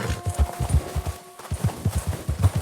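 Horse hooves clip-clopping in Red Dead Redemption 2, a brisk steady walking rhythm of close, thudding hoofbeats with a brief pause midway.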